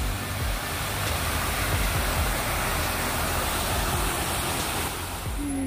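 A waterfall at a favorite outdoor spot, heard as a continuous broadband rush of falling water, steady and fairly loud throughout with no talking.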